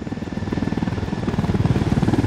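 A helicopter in the video game Ghost Recon Wildlands chops steadily with fast rotor thumps, its rhythmic beating growing slightly louder over the clip, with no talk over it.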